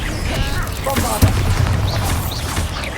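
A Bombarda spell blast in Hogwarts Legacy lands as one sharp, heavy boom in the middle, with its rumble trailing under game effects and a voice speaking.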